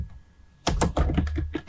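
Typing on a computer keyboard while coding HTML and CSS: a quick run of crisp, close key clicks and thunks after a brief quiet start, steady and fairly loud, with no voice.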